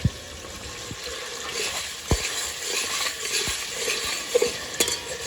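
Onion sizzles softly in a pan as a utensil scrapes and stirs, with a few sharp clinks of metal.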